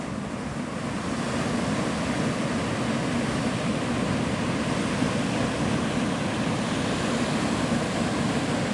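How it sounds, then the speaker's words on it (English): Ocean surf rolling onto Navarre Beach, Florida, heard as a continuous, dense wash of breaking waves with a steady roar and some wind on the microphone, with no voices. "I like to sit here and listen to the water."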